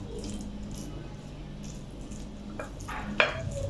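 Ingredients for pizza chicken sticks are mixed in a bowl, with quiet scraping and stirring and a couple of sharper spoon knocks near the end.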